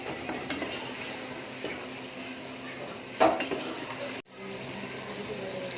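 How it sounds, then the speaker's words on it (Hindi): Spice masala cooking in a pan while aloo baingan is being made, with steady frying noise, a few light scrapes and clinks of a spoon, one sharper knock near the end, then a brief cutout. "अब हम मसाले को अच्छे से पकाएंगे।"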